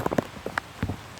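Steady rain falls during a heavy downpour, a soft continuous patter with scattered sharper drop hits, fairly close and moderately loud, with no talk over it.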